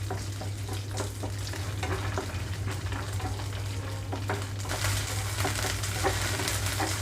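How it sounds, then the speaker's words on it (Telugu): Peanuts and other chutney ingredients frying in a pan over a low flame, a soft continuous sizzle broken by frequent small crackles and scraping stirs, fairly quiet and close, no talking. "లో ఫ్లేమ్లో ఉంచి వేయించుకుంటున్నాను ఇవన్నీ కూడా"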